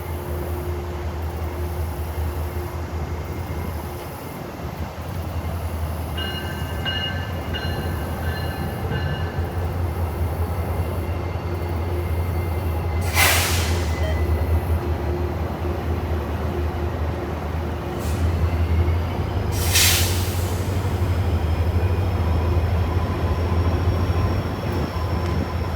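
A slow freight train rolls past close by a fishing pier in the Orlando area, a steady low rumble of wheels and cars running throughout, with brief high wheel squeals and sharp metallic bursts around the middle and toward the end.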